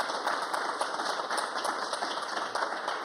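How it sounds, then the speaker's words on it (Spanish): An audience at a Colombian official swearing-in ceremony gives steady, full applause, even and continuous throughout with no speech over it. "Un fuerte aplauso, por favor."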